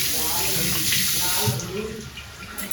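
Tap water runs steadily and loudly while golden hair colour is rinsed out, with a full, even wash of flow throughout and faint voices murmuring beneath it.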